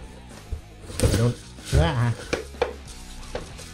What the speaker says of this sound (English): Sorry for rattling noises.